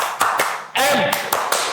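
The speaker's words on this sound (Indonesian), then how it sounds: "Tepuk MTS." A group of school students doing the rhythmic "Tepuk MTS" clap chant, a few sharp, evenly spaced claps in unison around a shouted voice, close and loud.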